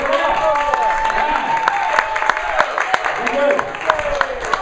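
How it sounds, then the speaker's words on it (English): An audience in McCarthy's bar applauds itself on a Wednesday night, scattered sharp hand claps over a busy room hum, with voices talking and calling out through the clapping. "Give yourselves a round of applause."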